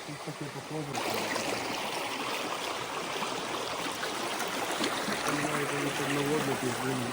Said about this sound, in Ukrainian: багато води тече